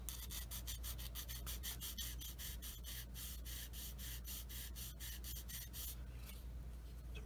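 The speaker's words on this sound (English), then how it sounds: "And then use my sanding stick." A sanding stick rubs a small photo-etched part for a Tamiya 1/35 Panzer II model in quick, steady back-and-forth strokes, close but faint, then stops.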